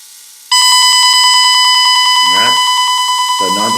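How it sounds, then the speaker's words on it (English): A Lego EV3 ultrasonic sensor sets off a steady, loud electronic tone that rings on continuously after a sudden start, with a voice speaking briefly twice over it. "we should start getting some beeping"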